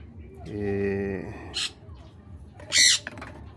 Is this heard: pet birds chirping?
yes